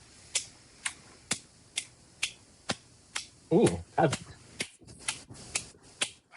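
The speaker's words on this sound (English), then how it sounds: "Oh no, it's just me clapping" About a dozen single sharp hand claps sound close by at a fairly steady pace of roughly two per second, with a brief pause near the middle where a voice speaks and murmurs between claps.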